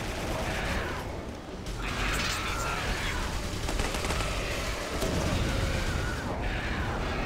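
Gunshots and heavy weapon fire in the video game Clive Barker's Jericho, a steady dense battle din of repeated shots and blasts throughout, with no talking over it.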